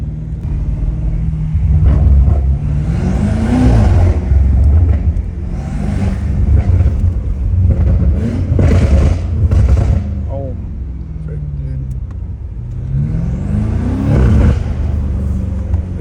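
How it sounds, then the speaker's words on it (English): Straight-piped BMW M5 Competition heard from inside the cabin, its engine rumbling and surging through several rev swells with a faint turbo whir on top, loud and close, while someone talks over it. "it sounds like there's like upgraded turbos on this thing"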